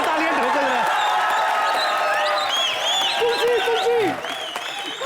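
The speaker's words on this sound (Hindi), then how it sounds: "जोरदार तालियां ठोको जरा।" A TV comedy show studio audience's applause and cheering build over several seconds, with whoops and excited voices mixed in.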